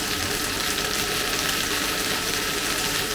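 Chicken, vegetables and gravy heat in a pan on a hob, giving a steady, close sizzle and bubbling hiss that runs unbroken throughout with no talk.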